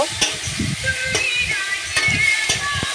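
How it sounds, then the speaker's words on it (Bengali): Onion and tomato frying in a pan with a steady close sizzle, joined by a few sharp scraping stir strokes and clinks of a utensil, no talk. "আমি এখানে পেঁয়াজ টমেটো সব কিছু দিয়ে দিয়েছি এবারে একটা ভালো করে একটু ভেজে টুজে নিব"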